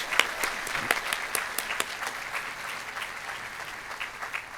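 A crowd applauding steadily at a college graduation ceremony, many hands clapping at a moderate distance, sustained without a break and with no voices over it.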